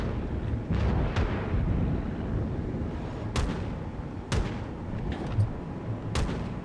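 Anti-aircraft guns fire aboard a battleship in the naval game World of Warships, as several loud booming blasts punch through a constant roaring backdrop of engine and sea noise.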